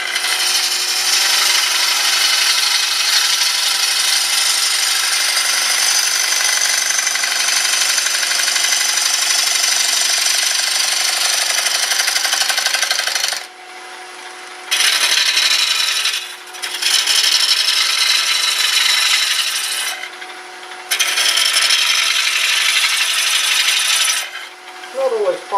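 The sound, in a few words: gouge rubbing the bevel while turning a wet wood bowl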